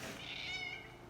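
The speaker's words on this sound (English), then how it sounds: "I got somebody meowing at me who wants to get fed" A hungry cat meows once in a long, drawn-out, rising-and-falling call, fairly quiet and close, in a garage where a Volkswagen carburetor is being rebuilt.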